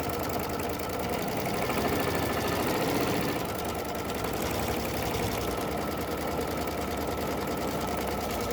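Embroidery machine sewing a candy cane placement stitch on a 5x7 hoop over batting, a continuous fast needle chatter with a steady rhythmic pulse, close and even throughout.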